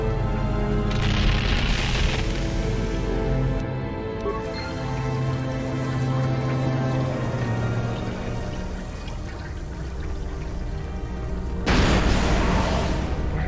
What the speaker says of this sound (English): With these random explosions.